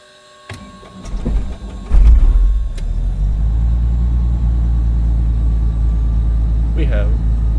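Inside a Microsoft Flight Simulator Beechcraft Bonanza, the piston engine cranks with clicks and a rising starter whine, then catches and settles into a steady, loud low rumble at idle.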